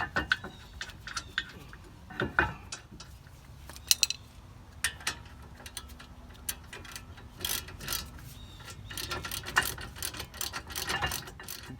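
Bolts being threaded and tightened as a front Brembo brake caliper goes back onto a Ford Mustang GT, with repeated close metallic clicks and ratcheting ticks scattered over faint background noise, no talk.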